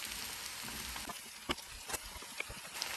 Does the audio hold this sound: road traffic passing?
no